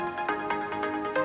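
A bright trance synthesizer melody plays short, evenly spaced notes over sustained chords, steady and moderately quiet, with no voices.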